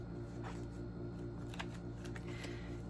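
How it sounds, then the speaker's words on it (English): A deck of tarot cards being shuffled by hand, a quick series of soft riffling flutters and taps, close up and quiet against a low steady hum. "And if two cards come out, I'm going to keep shuffling."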